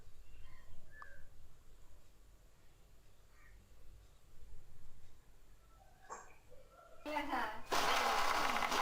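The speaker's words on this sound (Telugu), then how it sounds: "ఒక నిమిషం పాటు బాగా గ్రైండ్ చేయండి" A mixer grinder starts up near the end, a loud, harsh whirring burst as it blends sapota fruit with milk and sugar, after a quiet stretch with talking.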